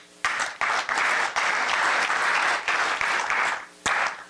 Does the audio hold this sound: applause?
yes